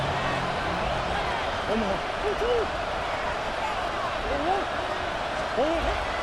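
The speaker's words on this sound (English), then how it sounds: "The crowd cranking it up another notch before 3rd and long." Stadium crowd in Madden NFL 26 keeping up a steady roar under a broadcast-style commentator's voice, with occasional rising whoops and cheers poking out of the din.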